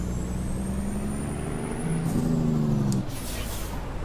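A big rig in American Truck Simulator braking hard, a steady low engine drone with a descending tonal whine and a brief hiss of air release near the end, no talking.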